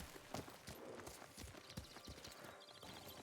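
Horse hooves clip-clop in the video game Ghost of Tsushima, a steady, moderately paced run of soft thuds under faint background ambience, with no speech.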